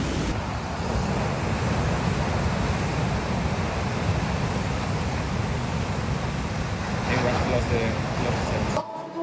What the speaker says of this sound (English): found a little spot where it's possible to find some more breaking waves